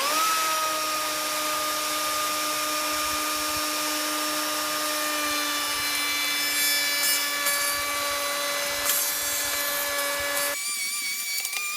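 A router cuts into a 3/4-inch hickory flooring workpiece, a loud, steady high motor whine with strong tonal lines and a grinding, rubbing cut underneath, close and continuous before dropping off near the end.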